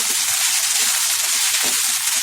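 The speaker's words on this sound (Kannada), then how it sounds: "ಆಲೂಗೆಡ್ಡೆ 1 ನಿಮಿಷದಷ್ಟು ಫ್ರೈ ಆಗಲಿ" Potatoes and radish beans stir-frying in a hot pan give a steady, bright sizzling hiss, continuous and close, with faint crackles scattered through it.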